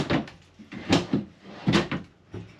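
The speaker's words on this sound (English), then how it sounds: "Door closure here. Sliding door." A sliding closet door in a 1985 Lance travel trailer rolls and knocks in several short, close strokes as it is moved open and shut, with no one speaking.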